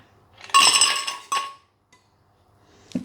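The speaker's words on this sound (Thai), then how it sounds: "ก่อนอื่นเราใส่น้ำแข็งลงไปเลยค่ะ" Ice cubes tumble into a glass for a mulberry and passion fruit drink, a dense cluster of bright clinks over about a second, a second short rattle, then a faint knock at the end; close and alone with no talk.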